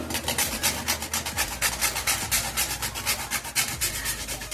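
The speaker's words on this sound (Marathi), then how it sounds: "आता यामध्ये जाळफळ किसून टाकून देऊ" Nutmeg is grated over a sweet khoa mixture, giving a close, continuous run of quick, rhythmic rasping strokes with no pauses.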